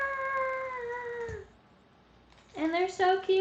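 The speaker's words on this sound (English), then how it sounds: "I adopted 2 kittens this week." Kittens meow in two bursts, a long drawn-out cry followed after a short pause by several quick, higher meows, close and fairly loud with a voice briefly present.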